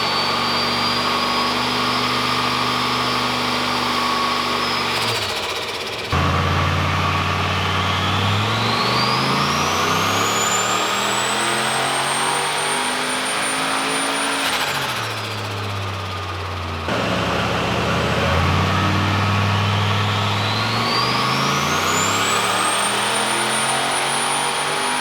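Turbocharged Holden VX Clubsport with a Gen3 LS V8 on flex fuel revving and accelerating up through the gears, loud and close, the engine pitch climbing steadily then dropping sharply at each shift, with no talk over it.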